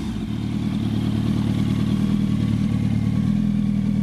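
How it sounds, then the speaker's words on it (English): A 2007 Yamaha YZF-R1 sport motorcycle with aftermarket M4 exhaust pipes, its engine idling loud and close in a steady, throaty drone with no voices over it. "It's an M4 aftermarket pipes on it, make it sound perfect."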